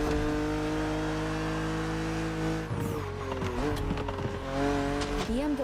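BMW Z roadster racing in The Crew Motorfest, a steady engine drone with rising and falling revs and tire squeals near the middle, loud and close throughout.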